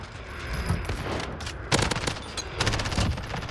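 Sustained rapid automatic fire from an MP7 submachine gun in Modern Warfare, loud and close, with denser bursts partway through and brief gaps between strings of shots.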